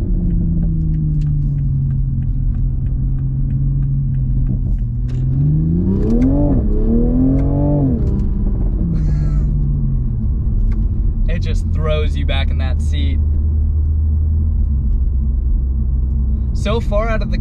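A 2020 Toyota Supra driven hard, its engine rumbling from inside the cabin and then revving up loudly and rising in pitch before easing back, with clattering shifts and a steady road drone afterward.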